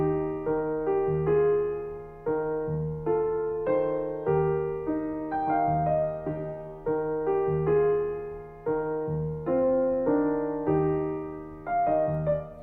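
A jazz musician's lofi hip-hop left-hand piano line, mixing downbeats and upbeats for a light feel, plays alone as a steady loop of warm chords and bass notes over about twelve seconds.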